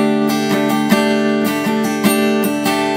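Steady strumming on an acoustic guitar, playing the rhythm pattern of a song: evenly spaced down-and-up strokes ring over sustained chords, close and clear with no talking.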